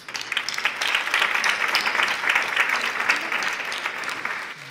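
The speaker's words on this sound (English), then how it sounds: "So a big round of applause, please." An audience at a civil society gathering applauds the UN Special Coordinator, a steady, full round of clapping from many hands that holds evenly before tapering slightly.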